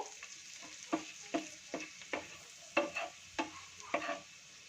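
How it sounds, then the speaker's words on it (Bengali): Garlic frying lightly in a pan, with a soft steady sizzle and about eight sharp stirring scrapes at regular intervals, close and fairly quiet with no talk. "তো রসুনটাকে একটু হালকা ফ্রাই করে নেব, জাস্ট হালকা ফ্রাই করব।"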